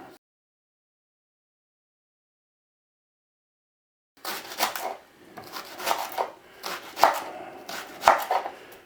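Carrots are chopped into small pieces with a knife on a board, a close, brisk run of rapid, irregular knocks and slices after a long silence.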